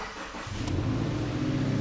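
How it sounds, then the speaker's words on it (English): A car engine in a home garage cranks and catches, a quiet rumble rising sharply about half a second in and settling into a loud, steady idle close by. "let me start the car"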